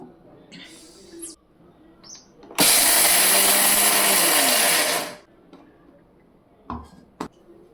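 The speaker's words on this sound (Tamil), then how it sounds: "வறுத்த வேர்க்கல்ல ஒரு கப் எடுத்து வச்சுருக்கிறேன் அதை ஒன்றும் பாதியமாக அரைச்சிடலாம் மிக்ஸ் ஜாரில் போட்டு சும்மா ஒரு சுற்று சுற்றுனா போதும்" A mixer grinder jar blitzes roasted peanuts to a coarse grind in one loud burst of about three seconds, framed by quiet kitchen clatter before and after.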